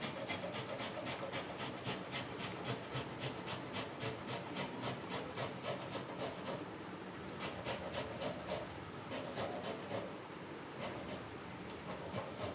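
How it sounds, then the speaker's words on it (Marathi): Fresh wet coconut is grated by hand in a continuous run of rhythmic rasping strokes, close and fairly quiet, with no one speaking. "आता आपल्याला हे ओलं नारळ जे आहे किसून घ्यायचं आहे"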